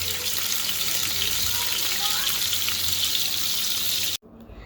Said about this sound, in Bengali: তো সবার প্রথমে আমি কিন্তু মাছগুলিকে ভেজে নিচ্ছি